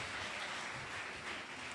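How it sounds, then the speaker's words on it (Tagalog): Church congregation applauding together, a steady dense wash of clapping held at an even level throughout, fairly distant and diffuse with no talk over it. "Pumalakpak po tayo ng buong lakas sa ating dakilang Diyos."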